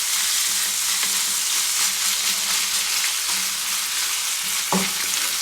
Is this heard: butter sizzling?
yes